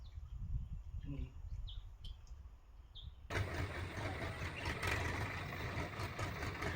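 A tractor pulling a trolley loaded with grass, with people seated on top, rolls along a village road in the Konkan countryside. Birds chirp faintly at first, then a loud, steady engine rumble suddenly takes over.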